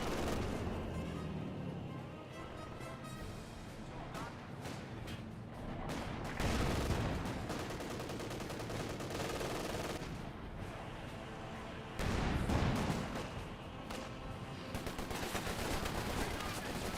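Dense gunfire and machine-gun bursts crackle through a Company of Heroes 2 battle, with heavy booming impacts near 6 and 12 seconds over a continuous loud barrage.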